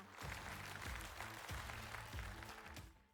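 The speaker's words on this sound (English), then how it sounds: "let's give her a warm round of applause as she leaves the stage" Applause rises from a studio audience at a televised singing contest as a performer leaves the stage, broad clapping mixed with fading stage music, fairly quiet overall and lasting a few seconds.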